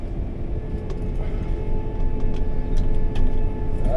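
A Gleaner combine stuck in a ditch, its engine droning low and steady with rumbling strain and faint intermittent clunks as the transmission is shifted, close and continuous throughout.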